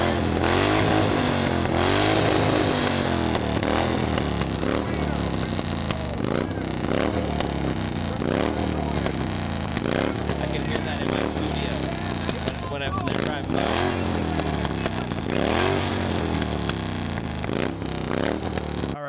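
A motorcycle engine captured on a low-quality recorder, its droning, revving hum running continuously under overlapping voices talking throughout.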